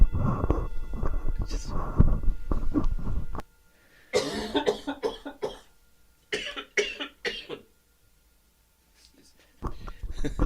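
Harsh, loud coughing fits in a quiet room during a Buddhist teaching session, several bursts in clusters separated by silent pauses, with some throat clearing.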